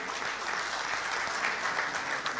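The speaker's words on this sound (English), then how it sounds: "Shall we acknowledge their performance with a round of applause?" Audience at a Ghanaian conference applauds a cultural troupe after their performance, a soft, continuous patter of many hands clapping, heard from a distance and without talk.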